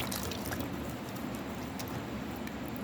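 Figs are rinsed in water, giving a steady close splashing and dripping wash that runs without pause and without voices.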